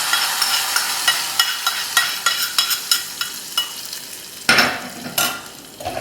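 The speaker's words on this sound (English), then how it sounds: "So we're going to add the tempering back." Fried tempering is added to a Kerala prawn and green mango curry and stirred in, giving a run of regular scraping strokes over a soft sizzle, then a louder burst of frying partway through, with no talk.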